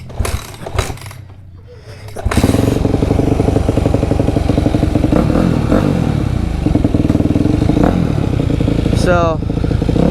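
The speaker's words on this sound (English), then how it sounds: "I hope you guys will hear me over this bike because it's insanely loud." A very loud dirt bike ridden in a backyard: after a few clunks and a brief lull, the engine roars up close and holds a steady, rasping drone with a rev near the end, under a speaking voice.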